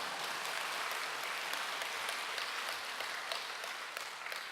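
Applause from a church congregation at an early-morning service during a summer retreat, a dense, even wash of clapping heard from a distance and fairly faint, continuing steadily without speech.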